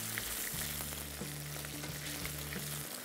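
Whole shallots sautéing in coconut oil until brown make a soft, even sizzle over a steady low hum, with faint stirring noises and no talking.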